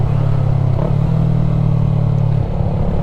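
A Yamaha MT-03 motorcycle engine drones steadily while riding on a clear day, a close, loud, even low hum with a brief dip near the start and no talk.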